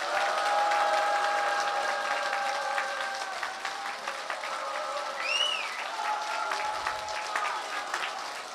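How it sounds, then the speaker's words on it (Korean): Steady applause from a crowd at a political party event, welcoming the party leader Huh Kyung-young; it is sustained and fairly even, with a brief rising whistle-like tone partway through. "우리가 존경하고 사랑하는 허경영 신인님을 뜨거운 박수로"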